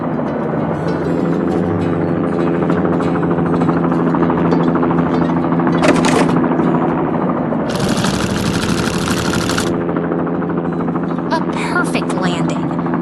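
A cartoon helicopter carrying a heavy tank keeps up a loud, continuous rotor drone, with bursts of bright hiss and rattle rising over it; a narrator talks during it.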